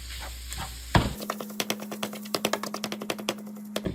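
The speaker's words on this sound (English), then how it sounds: "Using the mixing cup, I'm going to break up the hamburger really fine" Sharp scraping clacks of a mixing cup breaking up hamburger meat in a pan, a quick cluster of close, rhythmic taps and scrapes repeating steadily over a faint steady hum.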